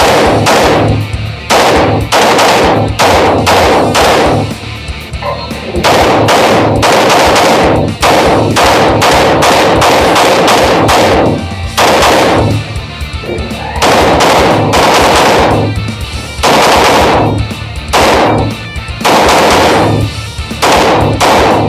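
Loud, close pistol shots from a Springfield Armory Echelon Compact at an indoor range, fired in quick bursts and strings of rapid single reports with brief pauses between groups and no talking.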